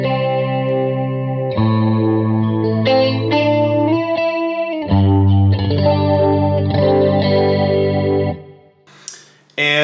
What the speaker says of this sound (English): This is like a CE1, a 70s chorus, like from a Boss